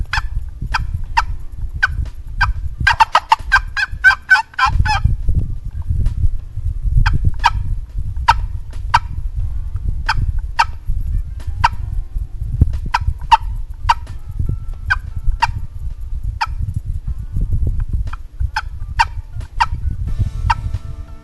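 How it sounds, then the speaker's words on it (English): A wild turkey gobbler gobbles repeatedly outdoors, loud rattling bursts at irregular intervals, with low wind or handling rumble underneath throughout. "this was very effective on getting this gobbler to go ahead and commit and come on into us"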